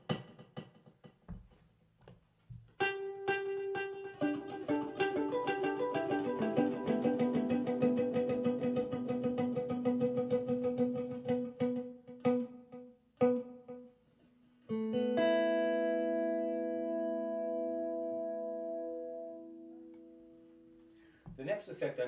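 Electric guitar run through a Neunaber Seraphim pedal set to an echo effect: plucked chords and single notes ring out with repeating delayed tails that sustain and fade, followed by a bright, held chord.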